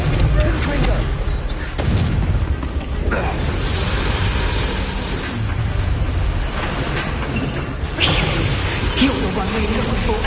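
Fiery Confringo spell blasts in the video game Hogwarts Legacy, heavy booming explosions and crackling combat effects rolling continuously, with several sharper bursts standing out over a dense, loud battle din.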